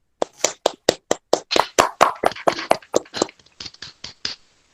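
Congregation at a Christian youth worship service clapping in praise, a run of sharp, fairly steady handclaps close by, slightly uneven and overlapping in the middle, then thinning out toward the end with no talking.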